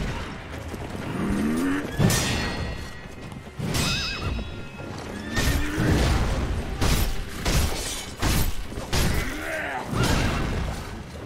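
Gyoubu's horse in Sekiro rears and neighs repeatedly, loud whinnies breaking through hoof clip-clops and clanking armor and weapon mechanisms during a boss fight, several long neighs spread across the stretch.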